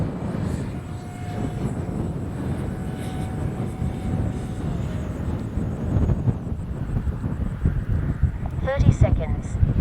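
An FGFRC Arrows 50mm T-33 RC jet flies in strong wind, its faint whining ducted fan partly buried under rough, continuous wind buffeting on the microphone.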